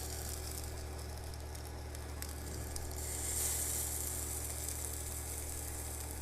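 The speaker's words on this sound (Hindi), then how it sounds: "और इसके बाद ये जो कबाब हैं ये इसके अंदर रख दीजिए।" Koobideh kebabs sizzle steadily in an oiled hot pan, a continuous close, even frying hiss with a slight swell midway.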